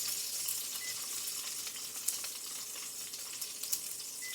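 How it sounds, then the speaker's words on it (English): Steady crackling sizzle of fat rendering from steak in a pan, with a few sharper pops scattered through, fairly constant and close. "Right now, I'm just rendering out the fat."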